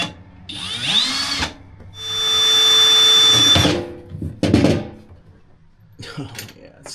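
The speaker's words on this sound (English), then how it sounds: "drill the hole" A power drill whines in short bursts while drilling a hole during van fuel tank work, with one long sustained run in the middle, plus some clattering and handling noise around it.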